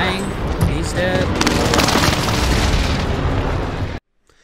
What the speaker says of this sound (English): Now, see, I'm airstriking this, bro.